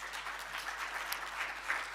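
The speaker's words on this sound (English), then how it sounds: "Can we give them a round of applause?" Audience applause after thanks for Oppo's donation of 200 tablets at a youth coding initiative launch, a steady dense patter of many hands clapping, moderately distant and sustained throughout without talk.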